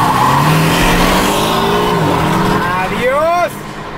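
A Porsche Cayman S with launch control and a dual-clutch gearbox revs hard and launches in a drag race, pitch climbing through quick gear changes before cutting off, loud and close.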